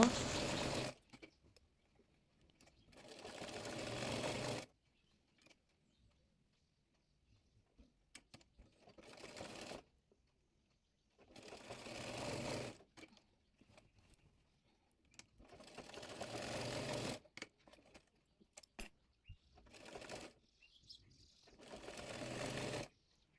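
Sewing machine runs stitching ribbon onto the bodice of an umbrella frock, coming in repeated bursts of two to four seconds with near-silent gaps between them, close and steady.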